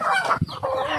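A brooding mother hen clucks and calls close by in a Lagonoy farmyard, a short run of throaty, uneven clucks with no talking over them.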